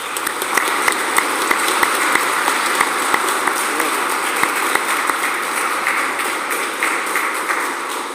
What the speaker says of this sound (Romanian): și îi aplaudăm